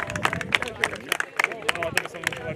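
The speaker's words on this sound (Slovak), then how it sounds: "Teraz poprosím veľký potlesk." Audience applause at an awards ceremony for a fitness event, steady dense clapping from a crowd throughout, fairly close and loud, with scattered sharp individual claps standing out.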